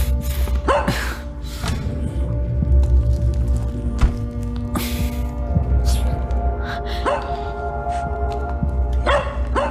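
A puppy gives several yips and barks spaced out over a steady low rumble, with creaking mechanical sounds in the background.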